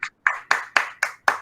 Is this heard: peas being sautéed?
no